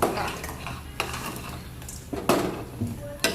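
Manchurian balls being stirred into gravy in a pot, with a few sharp clinks of a spoon against metal and a soft scraping and sloshing between them, close up and fairly quiet.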